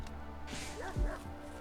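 A dog in the RimWorld video game gives a single short bark with a rising yip, fairly quiet against a low steady game background.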